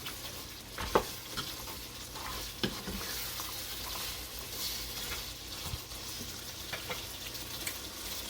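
Salt is stirred into Durban-style mutton curry as it sizzles in the pot, a soft continuous fry with occasional spoon knocks and scrapes, close but quiet.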